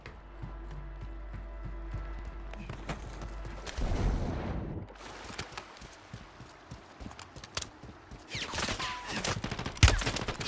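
Gunfire in the video game Warzone, scattered shots and bursts over a busy game soundscape, with louder clusters of fire in the middle and toward the end.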